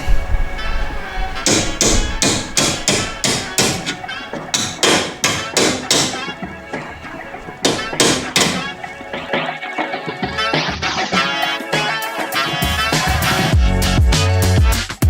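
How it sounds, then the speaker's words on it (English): Rapid, loud metallic hammer blows from a hammer and dolly strike a BMW E36 car body panel over and over in quick rhythmic bursts, ringing sharply up close. "I got the hammer and dolly here."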